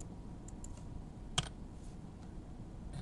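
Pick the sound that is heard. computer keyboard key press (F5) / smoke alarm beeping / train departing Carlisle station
computer keyboard key press (F5)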